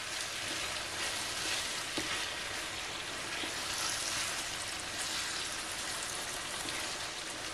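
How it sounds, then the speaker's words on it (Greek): Vegetables sautéing in a pan, a steady dense sizzle and crackle of frying that holds evenly throughout with a few faint stirring clicks, no voices. "ξεκινάμε το σοτάρισμά μας"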